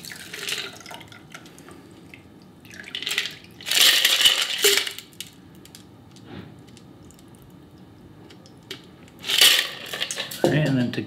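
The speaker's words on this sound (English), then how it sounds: "got my Hawthorne strainer, and I'm gonna strain this cocktail" An iced cocktail is poured through a Hawthorne strainer, ice rattling and crunching in bursts while liquid trickles, loud and close, with quieter pauses between pours.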